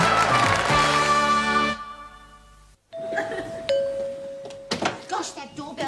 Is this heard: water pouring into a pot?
no